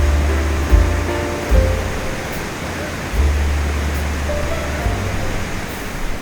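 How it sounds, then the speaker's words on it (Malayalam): A roadside mountain stream near Munnar, on the Kallar to Mankulam road, rushes downhill in a steady, broadband wash of flowing water with a low rumble. A few brief thumps break the wash. "മുകളിൽ നന്നായിട്ട് ഇങ്ങനെ വെള്ളം ഒഴുകി വരുന്നുണ്ട്."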